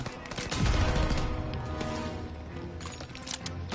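Sniper rifle fire in the World War II shooter game Call of Duty WWII: dense, booming gunshot bursts and crackling battle noise fill the mix at steady loudness, with a heavy cluster of shots early on.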